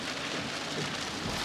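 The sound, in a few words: rain at Niagara Falls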